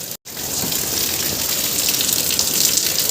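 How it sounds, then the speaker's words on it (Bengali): Heavy rain falls outside with water pooling, a dense continuous hiss that holds steady and loud for the whole stretch after a brief dropout at the start. "তো দেখো বৃষ্টি অবস্থাটা দেখতে পাচ্ছ"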